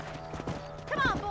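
Horse hooves clip-clop at a trot in the Western video game Red Dead Redemption, a few quick, fairly soft hoofbeats mixed with game ambience.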